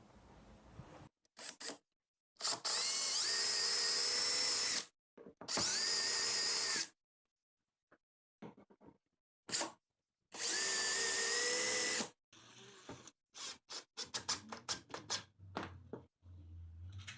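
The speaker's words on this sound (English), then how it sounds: "to fasten the head to the adapter plate, I'll just use some screws right through the top" A power drill drives screws through a shop vac head into a wooden adapter plate while a small cyclone dust collector is built. There are three close, loud whirring bursts of a few seconds each, separated by pauses, then clicks and handling noises.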